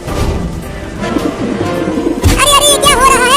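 A fat pigeon coos in an animated comedy scene, loud and close, amid busy cartoon effects. Warbling, rolling calls grow stronger toward the end.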